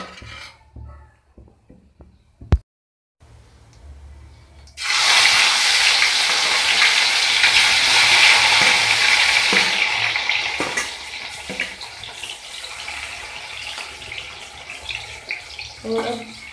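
Finely chopped tomatoes hit hot oil with lightly browned cumin in a pan for aloo tamatar sabji, bursting into a loud, sustained sizzle after a quiet start, then gradually easing off.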